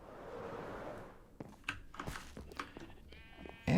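Sheep in Minecraft give a few short bleats close by amid soft game clicks and shuffling, ending in a sudden loud blare.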